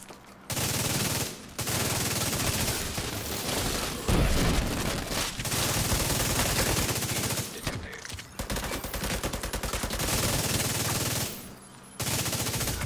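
Rapid automatic gunfire from The Division 2 plays loud and near in long sustained bursts with brief pauses, continuing almost nonstop throughout.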